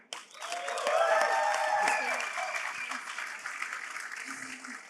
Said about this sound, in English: Can I hear a round of applause for getting shit done?